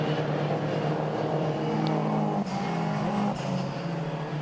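BTCC touring race cars run around the Brands Hatch GP loop as a steady, loud engine drone, with the revs shifting as the cars pass, and no talk over it.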